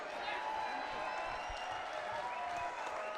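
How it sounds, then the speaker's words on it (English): Arena crowd applauding both boxers in the ring after a knockout, a dense, even roar of clapping and cheering that holds throughout. "a big round of applause for both of the boxers in this ring"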